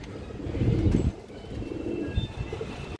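A pair of silver pigeons cooing, with low throaty murmurs swelling and fading close by amid steady background rustle and room noise, and no talking.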